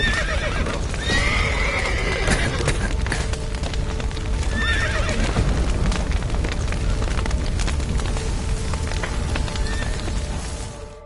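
Horses neighing and whinnying loudly amid clattering hooves and rumbling battle noise in The Witcher 3: Wild Hunt, with no clear speech.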